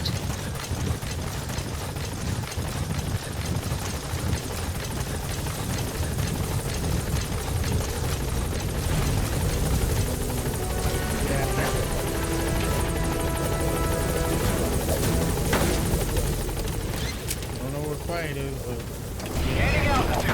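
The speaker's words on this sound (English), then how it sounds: "Support helicopter has arrived." Support helicopter from the video game Metal Gear Solid V arriving at a landing zone, a steady loud rotor drone and engine roar filling the whole stretch, with game voices heard over it.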